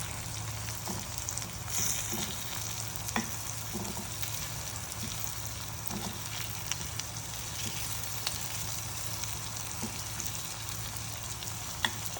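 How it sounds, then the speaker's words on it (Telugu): Bottle gourd pieces frying in a pan give a continuous low, even sizzle with faint crackles, steady and unbroken with no voices. "ఇలా రెండు వైపులా ఫ్రై చేసుకోవాలండి"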